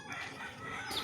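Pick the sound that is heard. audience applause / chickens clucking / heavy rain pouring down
chickens clucking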